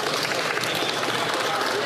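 Members of the House of Commons applaud in the chamber, a dense, steady patter of many hands clapping together at once, broad and sustained across the moment with some voices mixed in.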